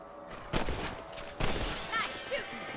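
Rifle shots crack out in Red Dead Redemption, three or four sharp reports spaced about a second apart, loud and close, with a voice speaking between them.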